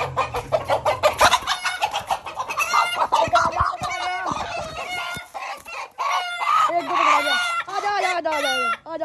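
Roosters crow repeatedly and chickens cluck loudly and close by in a poultry enclosure, with overlapping calls and some flapping and handling noise throughout.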